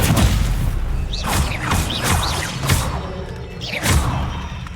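Incendio fire spell cast repeatedly in Hogwarts Legacy, several booming whooshing bursts in quick succession over steady loud game background noise.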